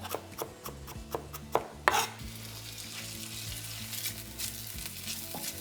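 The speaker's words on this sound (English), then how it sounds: "Give that a good stir." Onions fry in a cast iron pot for a date and chickpea tagine, opening with a quick series of sharp knocks and scrapes, then a close, steady sizzle under occasional stirring.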